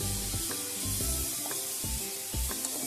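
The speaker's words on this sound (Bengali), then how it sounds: "ফ্লেমটা একদম হাই না রেখে একটু মিডিয়াম টু লো রেখে এটাকে হালকা করে ভেজে নিতে হবে" Mushrooms salted and frying in a pan over medium-low flame, giving a steady close sizzle with a few soft scrapes and stirs.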